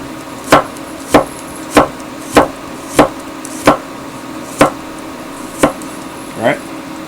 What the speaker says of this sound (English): Now you have sliced garlic.